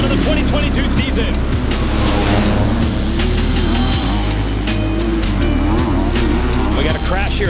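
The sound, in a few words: motocross bikes revving at starting gate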